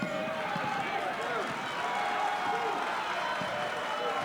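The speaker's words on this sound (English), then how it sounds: "And you hear the Perth Amboy crowd getting into the game." A crowd at a high school boys basketball game against Perth Amboy in 1993 roars steadily and loudly in a gym, a continuous wash of cheering under a commentator's voice.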